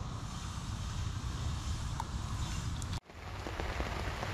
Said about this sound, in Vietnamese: Trời cũng mưa khá là to rồi anh em ạ